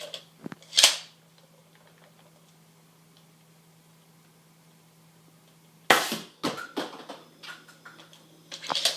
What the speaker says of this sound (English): let's take it down to the range and use an ICS 72 round grenade and put some rounds downrange